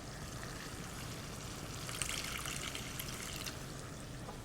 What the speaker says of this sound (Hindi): और थोड़ा सा मैं पानी शामिल करूँगी